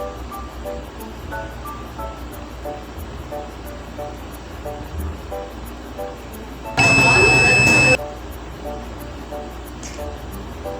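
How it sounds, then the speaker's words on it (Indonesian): Analog AVO multimeter continuity beep while checking cable connections on an electro-pneumatic PLC trainer: a single loud, steady buzz lasting about a second over constant background noise. "Jika saling terhubung, maka akan ada bunyi dari AVO analognya."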